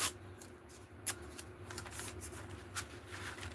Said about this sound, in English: I'll just put some tape on